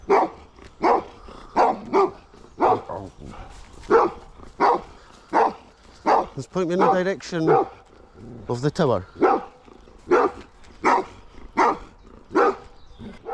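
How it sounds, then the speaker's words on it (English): A guard dog near a hill tower keeps up a steady series of loud, close barks, roughly one every second, while someone speaks over part of it. "Get away from the barking dog."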